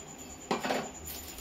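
A utensil stirs sugar into rice kheer in a pot, giving one brief clink and scrape of metal against the pot, close and soft, with no talking.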